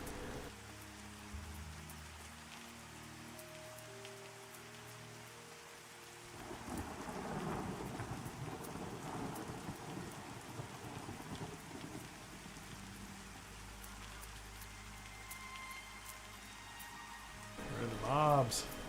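Rain falls steadily in the video game Pantheon: Rise of the Fallen while thunder rolls in and rumbles for several seconds at mid-clip, with a second low swell near the end, all fairly quiet in the background.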